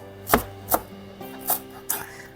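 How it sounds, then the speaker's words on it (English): Four crisp knife strokes through cilantro on a cutting board, spaced irregularly, close and clear with no talking. "We're also going to chop our cilantro"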